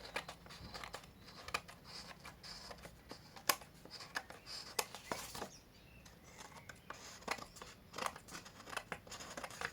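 Scissors cutting paper while making a wedding congratulations card, with rapid irregular snips and crisp rustling throughout, close and fairly loud, alone without speech.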